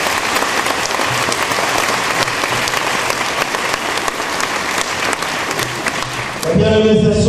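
A church congregation applauding, dense steady clapping that fills the room and then gives way to a voice at the very end.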